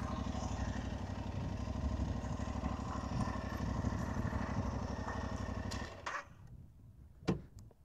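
A generator runs outdoors with a steady mid-pitched engine drone that carries on for most of the moment, then drops away abruptly and leaves faint background noise and a single knock.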